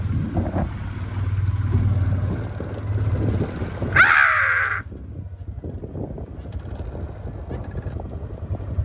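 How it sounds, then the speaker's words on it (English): A crow caws loudly for about a second over the steady low drone of a farm tractor working a field during spring seeding, with the engine rumble continuing underneath before and after the call. "Get out of here, you stupid fucking bird."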